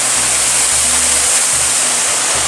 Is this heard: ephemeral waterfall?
yes